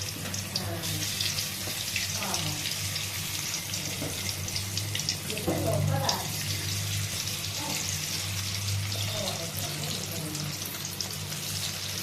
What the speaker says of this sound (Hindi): एबे मु आलू गोटी गोटी करी पकेई देबी।